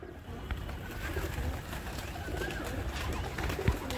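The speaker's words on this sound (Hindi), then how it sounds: "कबूतर अपने निकल निकल के उड़ रहे हैं" Pigeons on a rooftop, with cooing birds close by over a continuous low outdoor rumble, with occasional soft flutters and a brief thump near the end.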